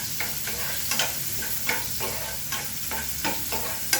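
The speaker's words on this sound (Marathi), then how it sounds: "याचे आपण परतून घेऊया" Onion and garlic sautéing in a pan: a steady sizzle broken by regular spatula scrapes about every half second, loud and close.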